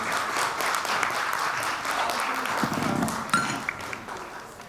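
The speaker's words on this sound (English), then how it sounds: "I think that applause has to be much, much louder" Audience applause for four industry leaders at a WLSA 2023 event, a dense, steady wash of clapping that thins toward the end, with a faint voice underneath.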